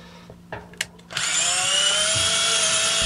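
After a few knocks and taps, a power drill whines loudly and steadily into a log, close by.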